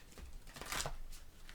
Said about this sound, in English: These are very difficult cards to shuffle, I must be honest.